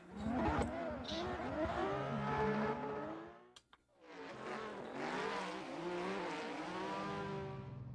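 Racing cars in a drift competition video game at a Rockingham circuit roar with revving engines and squealing tires, loud and continuous, dropping out briefly midway before resuming.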